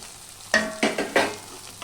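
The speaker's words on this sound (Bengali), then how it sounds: "এটাকে এবার আমি দু মিনিট মতো কষিয়ে নেব" Fried potatoes being stir-fried in a spice masala for a pointed-gourd and potato curry: three or four quick scraping stirs over a soft, steady sizzle.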